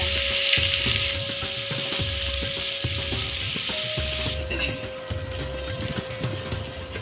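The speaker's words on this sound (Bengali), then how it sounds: "কালো জিরা, পেঁয়াজ আর কাঁচামরিচ ভেজে নিব।" Black cumin, onion and green chillies fry in hot oil for a fish dish, a loud continuous sizzle that fades midway, with rhythmic stirring scrapes and a steady background hum.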